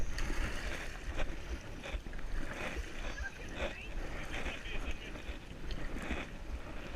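A kayak is paddled across open water, with soft splashes and sloshing under wind noise on the microphone and voices talking now and then.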